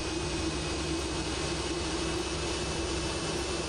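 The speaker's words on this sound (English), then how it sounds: "God, they're noisy. Noisy planes around me." Aircraft engines drone loudly from nearby planes around a Cessna 172 in a flight simulator game, a constant, unbroken roar with a steady tonal hum through the whole stretch.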